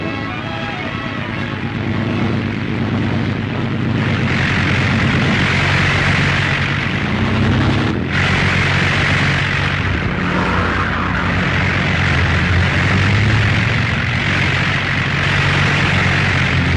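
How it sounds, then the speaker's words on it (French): Propeller-driven military training aircraft take off and fly in squadron formation in 1940, a loud, continuous engine roar with rumble and broadband noise that holds steady throughout. "les futurs chasseurs vont s'envoler sur les appareils écoles et se former en escadrille"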